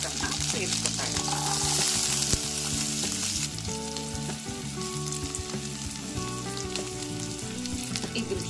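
Capsicum sizzles and fries in melted butter in a pan as vegetable soup is made, a steady loud crackle with occasional stirring clinks and no speech.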